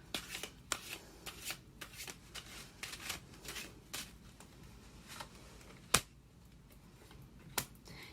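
Tarot cards being shuffled for a pick-a-card love reading, heard as soft, close riffling bursts and sharp snaps at an irregular rhythm, fairly quiet and with no voices.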